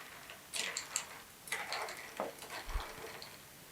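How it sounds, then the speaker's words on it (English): A spoon clinks against a glass as a ginger ale cocktail is stirred, with a run of light close ticking taps and a soft low thump. "You're going to just give it a real good stir"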